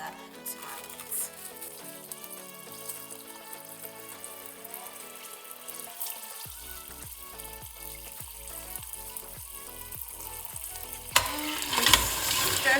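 Oxtail sautéing in a pot for a South African dish, a steady soft sizzle that gives way to a series of rhythmic stirring scrapes, with a louder clatter near the end.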